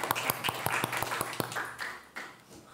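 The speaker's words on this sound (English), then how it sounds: "Big round of applause, yeah." Applause for two architecture master's students from the Catholic University of Leuven at a book talk on designing just cities, a dense burst of indoor clapping that thins out and fades toward the end.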